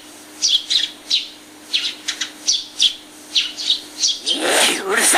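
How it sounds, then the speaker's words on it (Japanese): A sparrow chirps in a rapid run of short, bright calls, about a dozen bursts in a row, then a louder, broader rush of sound takes over at the end. "海苔を欲しがってチュンチュン鳴きました"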